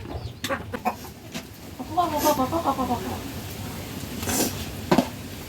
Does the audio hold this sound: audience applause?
no